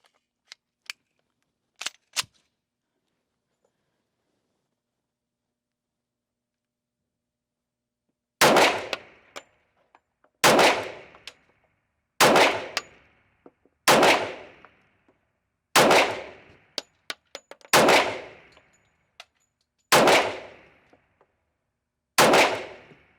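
An HK45 pistol fires reloaded rounds at a range. Light handling clicks come first, then after a pause eight sharp, loud shots ring out at steady intervals of about two seconds, each with a quick echoing tail.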